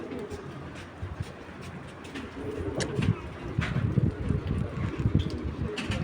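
Racing pigeons coo in low, repeated throaty pulses, growing louder and denser over six seconds, with light wind noise in the background.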